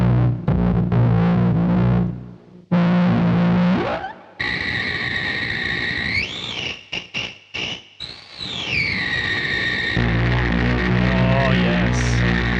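Gritty, heavily distorted tones from an Onde Magnétique OM-1 synthesizer run through a Metal Fetishist distortion pedal, droning then gliding in pitch with abrupt cuts and stutters, loud and alone without any speech.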